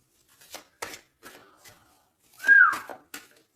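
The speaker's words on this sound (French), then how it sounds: "Non, c'est pas bien sifflé, pardon." A person whistles one short, sliding note that is clear but brief. Soft, scattered clicks and rustles come before and after it in a quiet room.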